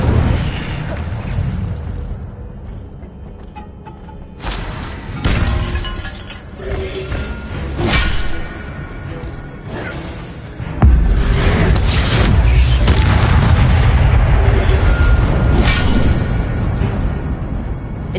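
Fire spell blasts in Hogwarts Legacy on PS5: repeated loud whooshing bursts and booms with crackling impacts, heavy mechanical game effects layered throughout, swelling into a sustained roar in the latter half.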